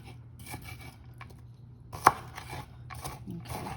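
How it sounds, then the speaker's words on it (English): A knife chops shallots on a board in a few quiet, uneven taps, with one sharper, louder strike near the middle and light scraping between cuts. "go ahead and just chop these up a little bit more"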